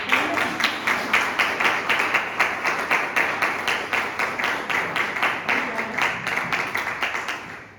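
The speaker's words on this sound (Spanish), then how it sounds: "Pues si estás de acuerdo, dame un aplauso al Señor" A church congregation claps in a fast, even rhythm, loud and sustained for several seconds, while a voice is heard faintly beneath the beat.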